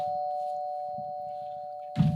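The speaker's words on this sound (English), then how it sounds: "When you hear the doorbell." A doorbell's steady electronic tone rings throughout, with a louder thump of activity near the end, all heard up close indoors.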